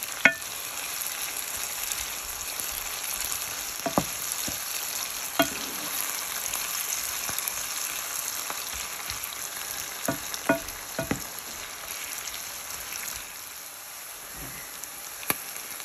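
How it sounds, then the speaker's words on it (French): Chili peppers and bell peppers frying in a pan, a constant bright sizzle with occasional sharp pops and utensil taps as they are stirred, close and steady with no talking. "On laisse cuire les piments et les poivrons"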